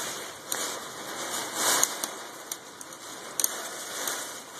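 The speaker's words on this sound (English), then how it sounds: "So here's a hail coming down." Small hail falls during a storm as a faint, steady patter with scattered sharper ticks and a brief heavier wash, heard from indoors at a distance.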